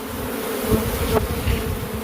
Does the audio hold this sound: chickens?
no